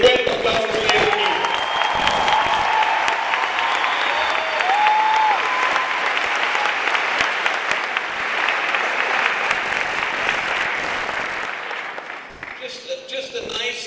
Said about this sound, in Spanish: you folks ought to give yourself a round of applause right now